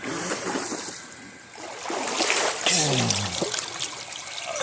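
Creek water trickles and splashes close by in an outdoor stream, a steady bubbling wash with brief louder splatters, moderately loud and alone.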